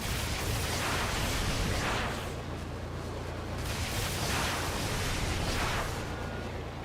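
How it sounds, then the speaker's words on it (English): Small explosion effect in a modded Halo 3 multiplayer match: a sustained, loud rumbling burst with broadband crackle that swells and eases in waves over several seconds, with no voices. "I need a small explosion."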